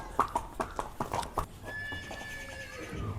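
Hooves of a mare clop in a quick run of strikes, then she lets out a long, wavering whinny while cooling down at home after a ride, all close and without voices.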